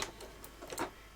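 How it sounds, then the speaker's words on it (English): Sewing machine stitching single-fold binding onto a quilt top, a short run of quick, faint mechanical ticks and taps close by, with no talking. "I just bring it right back over to the sewing machine."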